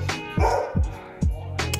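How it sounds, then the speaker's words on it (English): A pet dog barks three times in quick succession indoors, short sharp yips close by, with faint room noise between them. "my dad's getting my dog to bark right now"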